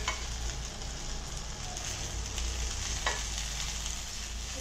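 Chicken drumsticks frying on a grill pan, giving a steady, dense close-up sizzle with crackle that stays even throughout, plus a few faint stirring clicks and no voices.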